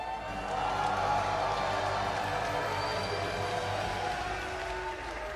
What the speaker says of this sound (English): Let's hear a round of applause for Levy.